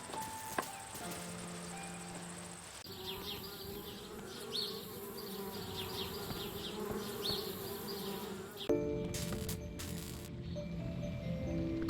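Bees buzz in the point-and-click adventure game Anna's Quest, a steady drone mixed with game music and chiming tones, continuous and fairly close for most of the stretch.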